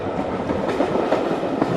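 A small steam railway train on the Isle of Wight runs steadily, its carriages rumbling and clacking over the track in a short, continuous, close passage with no talk.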